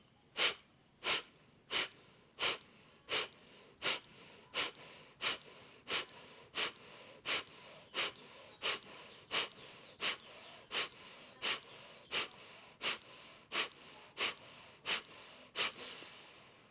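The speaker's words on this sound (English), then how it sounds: "That was a very short round of breath of fire" About two dozen sharp, forceful nasal exhales of breath of fire pranayama, done seated, fire in a steady rapid rhythm with even spacing, close and clear over a quiet background.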